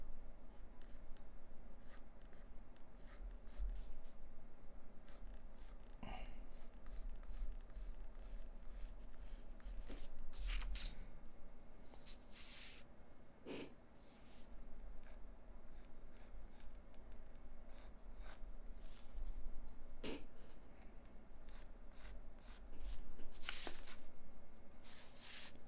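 A pencil scratches and shades across paper while a portrait's very dark hair is drawn, with quiet, irregular strokes and faint rubbing that stay close and soft, with no talk.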